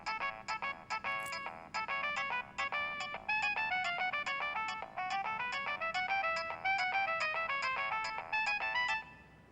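A telephone ringtone plays a bright, repeating electronic melody of quick plucked notes, loud and close, running steadily for several seconds with brief gaps between phrases and no talking.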